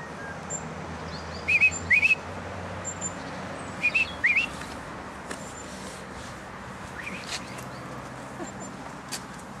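Birds chirp outdoors in two short bursts of bright, quick tweets a couple of seconds apart, fairly near, over a hissy ambient background with faint scattered calls.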